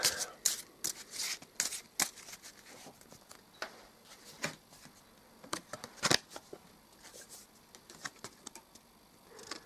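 Playing cards are shuffled up close, with quick papery riffles and soft slaps in irregular bursts, fairly quiet and with no talking.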